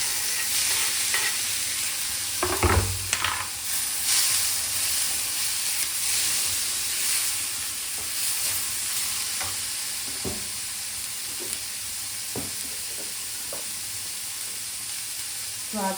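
Tomatoes sizzle and fry in a pan with a steady hiss close by. A spoon scrapes and clacks against the pan at irregular intervals, and no one talks.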